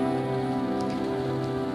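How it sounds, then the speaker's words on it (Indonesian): Heavy rain drumming on a car while driving on Selokan Mataram, a steady dense patter over a constant low engine hum inside the vehicle. "Jadi ini memang hujan terus banget"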